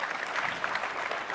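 A CPAC 2017 audience applauds an answer from EPA Administrator Scott Pruitt with a faint, even patter of distant clapping from a large crowd that holds steady for over a second.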